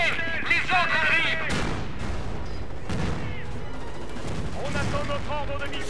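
Battle gunfire from the video game Company of Heroes: Opposing Fronts in a Market-Garden mission, with continuous dense shots and booms alongside voices shouting orders, loud and steady throughout.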